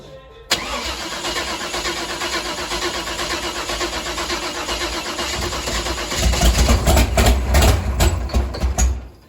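A Chevrolet Nova with fouled spark plugs cranks and catches, then settles into a loud, rough idle nearby, and the revs climb near the end.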